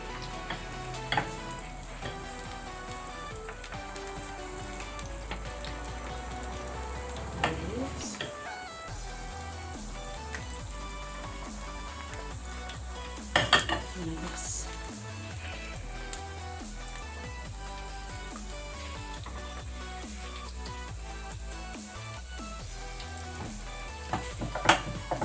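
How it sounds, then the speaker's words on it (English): Akara bean fritters fry in hot oil with a steady low sizzle and occasional crackles, faint and continuous beneath background music. "now I'm going to be introducing my akara into the oil"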